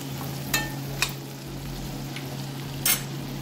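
Shrimp and jalapeño chile frying in a pan, a steady soft sizzle with a few brief clinks of a utensil stirring against the pan, no voices.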